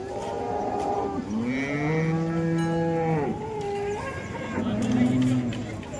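A cow at a cattle market in Modnimb, India, lets out long, loud moos up close, one sustained low call followed by a shorter one, with market background noise and voices underneath.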